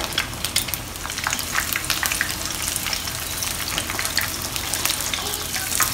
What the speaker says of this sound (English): I'm going to do a double fry on them because I want the oil to be extracted out of the ribs